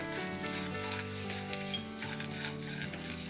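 Green chillies, urad dal, roasted peanuts and grated coconut fry together in hot oil with a steady, close sizzle. The crackle runs unbroken throughout with no voices.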